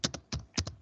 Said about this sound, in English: Right click on data1.